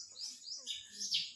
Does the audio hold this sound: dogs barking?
no